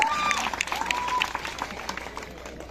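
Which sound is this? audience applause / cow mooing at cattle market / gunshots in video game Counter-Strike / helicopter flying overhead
audience applause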